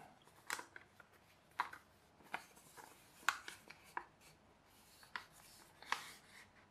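Paper is creased and folded into an aeroplane: soft, close rustles and crisp scrapes come in irregular bursts about a second apart, quiet, with no talk.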